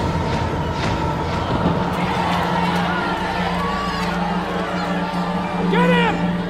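An angry crowd rising up in an audio drama, a dense roar of shouting and yelling voices that stays loud throughout, with a few higher cries standing out near the end.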